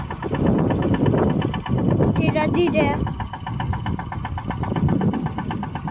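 A tractor engine's steady hum runs throughout with a rhythmic mechanical chug, loud and close, while someone talks over it.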